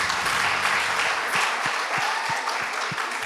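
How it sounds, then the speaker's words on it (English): Audience applause at a school debate contest between Precious Blood Riruta and St. George's Girls, a dense, continuous burst of many hands clapping, with a few sharper individual claps standing out toward the end. "Give them a round of applause,"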